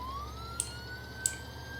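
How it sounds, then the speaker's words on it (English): A faint, slowly rising ambulance siren tone in a video game drones steadily in the distance, with two short clicks breaking in, no voices. "That's a great siren for an ambulance."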